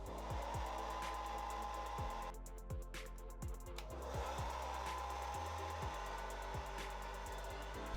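A hair dryer with a diffuser attachment blows steadily while drying curly hair, a close continuous whirring hum, briefly dipping as it is switched off and back on around the middle.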